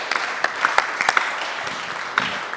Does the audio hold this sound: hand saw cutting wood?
no